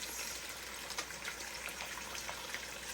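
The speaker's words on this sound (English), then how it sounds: "We're going to start adding water into our chicken now." Water pours steadily into a pot of Spanish-style chicken stew, a soft continuous gushing splash that is close but fairly quiet, unbroken for a few seconds.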